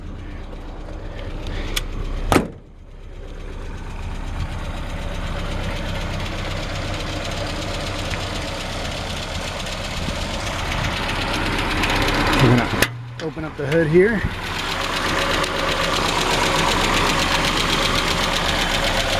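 A 1959 Triumph TR10 estate wagon engine idles with a steady, slightly knocking mechanical clatter while someone talks over it. A couple of sharp bangs come from the car, including the hood being opened, and the idle carries on loudly afterward.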